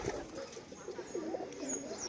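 Pigeons coo in low, rolling murmurs, several overlapping calls close by, with faint fluttering and background rustle throughout.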